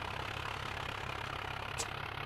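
A tractor engine idles steadily in the video game Farming Simulator 2011, a constant low rumble with no break, holding the same level from start to end.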